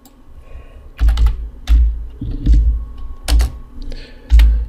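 Typing on a computer keyboard while filling in a Joomla site template, irregular bursts of close, loud key clacks with heavy thumps and short pauses between clusters, no speech.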